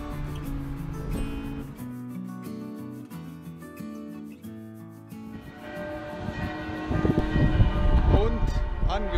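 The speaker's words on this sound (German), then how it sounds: "Und angekommen in Stein am Rhein und wir werden wieder mit Glockengeläut begrüßt." Church bells ring with sustained, overlapping tolls in Stein am Rhein on arrival by bicycle at a bridge over the Rhine, growing louder and mixing with rubbing and rolling noise toward the end.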